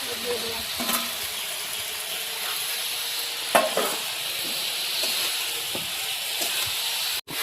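Cauliflower frying in a pan for a home-cooked fish curry, a steady sizzling hiss with occasional scraping stirs and soft clinks of the utensil against the pan.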